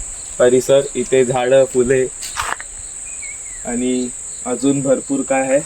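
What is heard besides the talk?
insects chirping continuously outdoors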